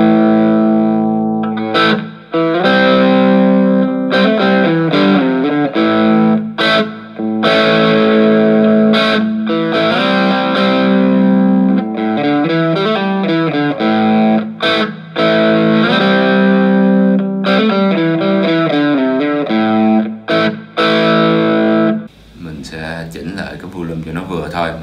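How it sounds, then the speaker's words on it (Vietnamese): Electric guitar played through a Cort CM15R/CM30R amplifier with heavy distortion, loud gritty chords and riffs ringing out in bursts with short pauses between, closing on a sustained fading note. "thì các bạn sẽ nghe cái tiếng rè của nó càng nhiều"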